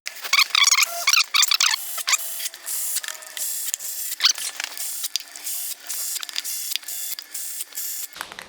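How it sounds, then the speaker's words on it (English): A ratchet wrench tightens bolts on a Cummins diesel engine, with rapid clicking ratchet strokes in repeated bursts alongside metallic squeaks and scrapes, close and fairly loud. "We got all the bolts in, so now I'm just going to go around and tighten them all up."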